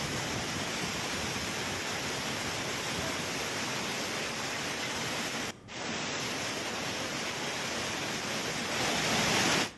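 Floodwater gushing down a path like a waterfall, a loud, continuous broadband roar that cuts out briefly once before resuming.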